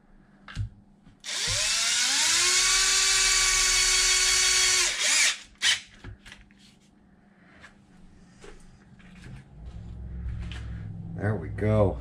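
Cordless power drill driving new Traxxas screws into a Traxxas Xmaxx RC truck: one loud, sustained whine of about four seconds that rises in pitch as it spins up, then stops, followed by faint handling clicks and a brief voice.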